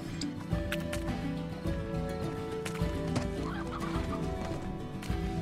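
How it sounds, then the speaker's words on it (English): A chicken in Slime Rancher clucks repeatedly in short, busy bursts, heard close over a steady layer of game ambience and music, with no talking. "Alright, calm down, chicken."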